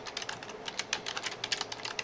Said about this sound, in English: I suggest you put your cursor there and start your typing